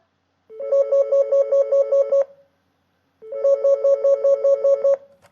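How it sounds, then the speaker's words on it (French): A home landline telephone rings in two bursts of rapid trilling electronic tones, each about two seconds long and separated by a short silence, loud and close with no talk. "c'est Delphine qui appelle et c'est sur un téléphone à domicile"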